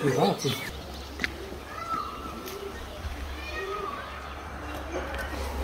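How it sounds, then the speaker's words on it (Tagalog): Several cats in a quiet hillside yard give a few scattered, moderately faint meows over a low outdoor rumble, with people talking nearby. "Ang dami nilang pusa dito."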